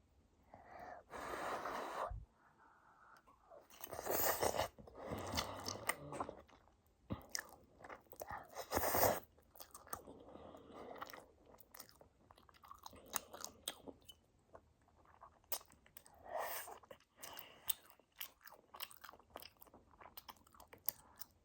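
Close-up chewing and biting of Pororo rabokki, tteokbokki rice cakes mixed with jjajang noodles, in soft wet bursts with crunchy bites and breathy sounds between them, heard continuously and near with no talking.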